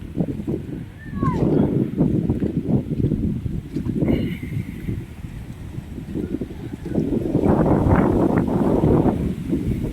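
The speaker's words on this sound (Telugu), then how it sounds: "భయంకరమైన గాలి." Strong cyclone wind from Cyclone Montha roars and buffets the microphone in gusts in a village, loud and continuous, with a brief high chirp near the start.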